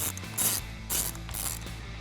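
A ratchet wrench clicks in several quick bursts, close and alone, while a nut is tightened onto a fog light ground wire on a 2021-2022 Ford F-150 with a Barricade HD off-road front bumper.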